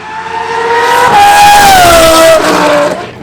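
A 1500-horsepower Lamborghini Huracan with a swapped engine that revs to 11,000 RPM lets out a loud, close, piercing high-pitched scream. The pitch holds, then sags slightly over about three seconds.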